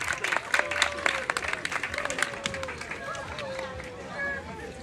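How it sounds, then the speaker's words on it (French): Audience applause after a demonstration of putting out a burning gas bottle, a burst of scattered claps under louder talk and cheering voices close by. "On applaudit pour lui."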